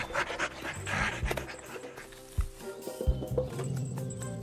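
A big dog pants hard and fast in an animated series, close and breathy in quick rhythmic bursts with a few sharp thumps in between. No one speaks.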